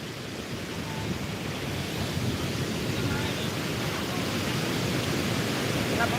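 Floodwater from upstream rain flowing through the Malan river, a steady, broad rushing wash that stays even and fairly close for the whole stretch, without clear speech.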